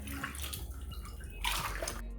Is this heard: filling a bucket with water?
yes